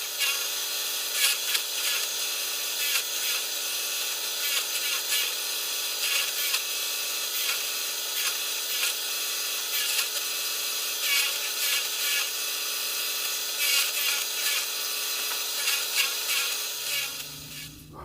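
A steady high-pitched power drill grinds continuously through steel, loud and close, with small surges in pitch, cutting off near the end.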